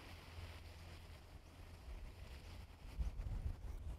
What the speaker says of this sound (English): see that gust, it's these gusts that get me.